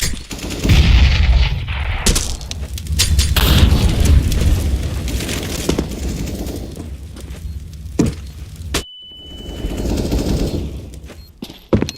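A flashbang grenade going off in a video game firefight: heavy gunfire and booms, then a sudden near-silent dropout with a thin, high ringing tone before the battle noise fades back in.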